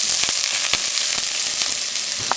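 A small onion sautés in hot ghee for Malabar-style Kerala ghee rice, a loud, dense, continuous sizzle with a few crackles and pops, no voices.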